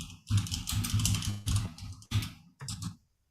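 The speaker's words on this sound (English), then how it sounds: "You got a loud keyboard there, Rick." Clattering keystrokes on a loud computer keyboard, a quick run of close, crisp clicks in bursts with brief pauses before it stops.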